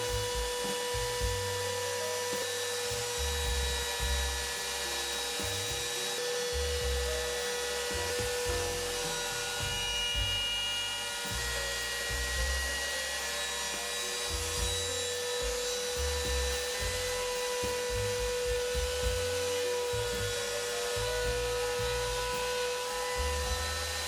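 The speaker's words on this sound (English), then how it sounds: "used that to then route off the edge of the new pickguard to the perfect shape" A steady high-pitched router whines continuously while a rougher grinding texture rises and falls beneath it as it trims the edge of a new pickguard on an Epiphone Flying V guitar.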